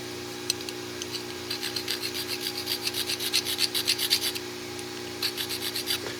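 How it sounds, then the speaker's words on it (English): A hand file rasps back and forth in the stop pin groove of a steel knife blade, a steady run of short, close strokes over a low constant hum, with a brief pause before the last few passes. "The stop pin groove, gonna have to file that down some more."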